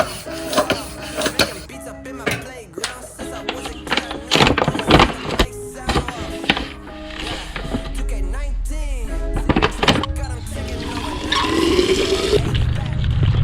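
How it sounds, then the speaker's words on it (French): A cyclist's water bottle being filled in a home garage, with a rising gurgling fill tone near the end among other busy background sounds. "je remplis la gourde"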